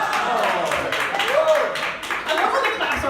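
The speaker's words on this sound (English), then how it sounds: "I love when the claps are louder for your marriage failed." A stand-up comedy crowd at the Dew Drop Inn claps steadily as a dense, continuous wash of applause, with a voice briefly rising over it.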